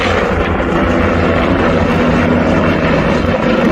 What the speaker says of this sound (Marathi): डोंगराच्या कडेकडेनं किंवा दरीतल्या हाईट बघून ते हेलिकॉप्टर खाली जाते